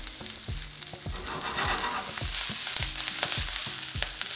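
Green onions fry in a pan, browning in a steady close sizzle scattered with small popping crackles, over a regular low thumping rhythm, no one speaking.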